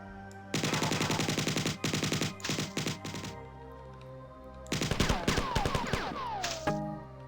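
An alien weapon fires in the Bungie shooter Marathon, with rapid, loud bursts of rattling shots in several volleys separated by brief pauses, ending with a descending whine.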